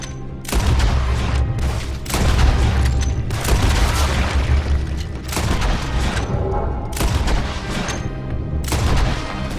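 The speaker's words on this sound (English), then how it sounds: "Guess we're shooting then." Red Dead Redemption 2 shootout with loud, booming gunshots firing in rapid, overlapping bursts, near and sustained across several seconds with only brief gaps.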